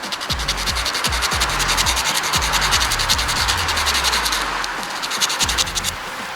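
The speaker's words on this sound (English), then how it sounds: "Let's try put it down here and see if I can really get a good good grind on it." A dirt bike carburetor's float pin gets ground down with a steady, harsh abrasive rasp, rhythmic back-and-forth strokes repeating close up and loud without any talking.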